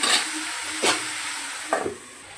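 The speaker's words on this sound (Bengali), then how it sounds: "একটু এরকম লাড়াচাড়া করে একটু সময় ঢেকে দেবো।" Pork curry with bay leaves frying in a pan, stirred in three short scraping strokes over a steady background sizzle, with no talking.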